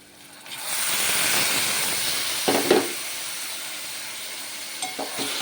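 Chopped tomatoes drop into a hot pan for a dried-fish tomato curry, setting off a loud hiss that settles into a softer sizzle, with a few stirring scrapes near the end.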